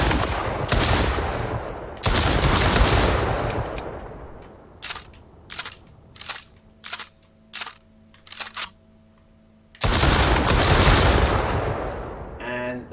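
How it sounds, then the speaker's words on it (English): A semi-automatic shotgun fires in the VR game Triton VR, with loud booming blasts and long echoing tails, then a quick rhythmic run of sharp mechanical clacks before more heavy shots, heard close and without talking. "So for now, this is just a semi-auto shotgun."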